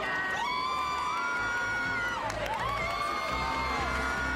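A crowd cheers and whoops at a race results announcement, a loud, steady roar of mixed voices, including shrill children's shouts, that lasts throughout with no break.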